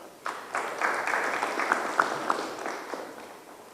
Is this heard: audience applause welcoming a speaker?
yes